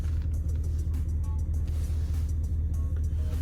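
A Jeep Commander engine with a newly installed cold air intake idles steadily with a deep, close rumble and light mechanical ticking throughout.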